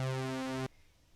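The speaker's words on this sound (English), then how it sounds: "that's the sound of these two oscillators on top of one another" A Korg synthesizer with two slightly detuned oscillators of the same wave type layered together, giving a steady, loud, buzzy sustained tone that holds for about two-thirds of a second and then cuts off abruptly into near silence.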